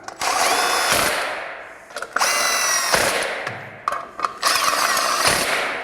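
Power drill driving screws into a primary clutch washer, several short close bursts of whining spin separated by brief pauses.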